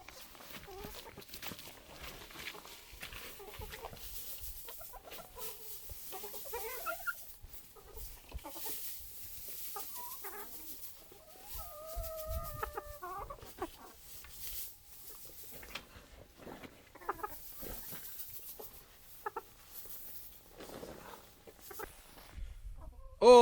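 Chickens clucking and murmuring at close range as they pick over freshly spread hay in a compost run, with scattered rustling and faint movement sounds throughout, no one talking.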